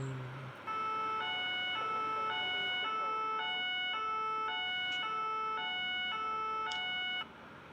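Wailing American police car sirens in the Police Simulator video game, a loud stepped two-tone cycle repeating evenly for about seven seconds with no talk over it.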